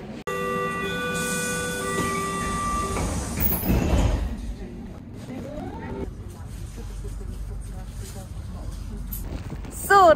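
A train pulls into a railway station in Germany, with a steady rumble, a rising electric whine of tones and the hiss and thump of doors as it stops, while people talk faintly in the background.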